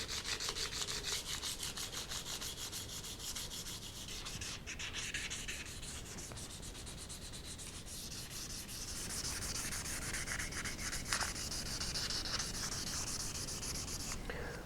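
An adjustable Proto wrench is hand-sanded with fine 2000-grit paper, making a continuous close, hissing rub that never pauses.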